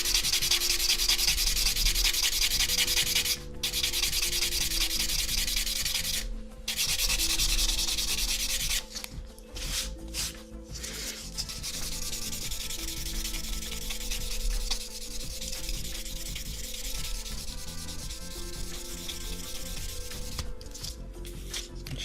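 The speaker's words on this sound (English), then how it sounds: "especially with good quality sanding sticks like these" Plastic model kit parts for a 1/72 Savoia S21F are rubbed with sanding sticks in a continuous close scratchy abrasion, with brief pauses between strokes and several short bursts near the end.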